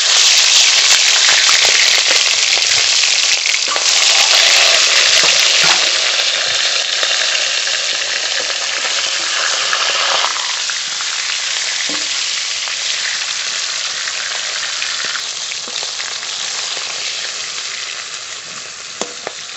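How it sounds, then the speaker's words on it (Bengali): A catla fish head fries in hot mustard oil in a kadai, giving a loud, steady, close-up sizzle with crackling spits and pops that slowly eases a little in intensity. "প্রথমে কাতলা মাছের মাথা ভেজে নেব।"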